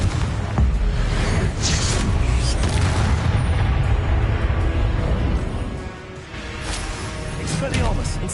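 A deep booming blast from the Confringo spell in Hogwarts Legacy rumbles out amid a continuous, loud combat mix of other spell effects, with a brief dip in the noise late on before the action resumes.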